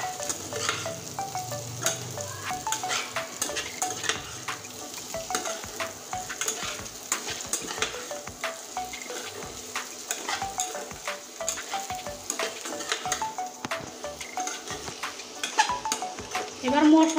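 Spices with coriander powder and a little chili powder sizzle and fry in a pan while being stirred, with steady close crackling and frequent scraping clinks of a utensil against the pan throughout.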